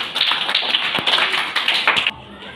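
A second-grade class of children clapping together in a classroom, a brisk flurry of hand claps lasting about two seconds before stopping abruptly into quiet.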